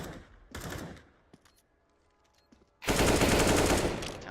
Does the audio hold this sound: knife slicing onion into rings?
no